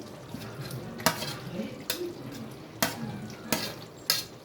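A spoon stirs fried onions into lemon chicken in a pan, scraping and clacking against the metal at irregular intervals over a soft background sizzle, fairly quiet and close.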